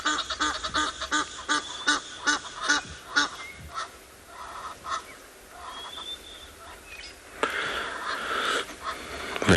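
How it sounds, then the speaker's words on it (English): A flock of Egyptian geese honks noisily just after landing on a South African safari reserve, close by, with a rapid series of harsh wheezy calls, a lull, then a renewed burst of honking. "Egyptian geese have arrived."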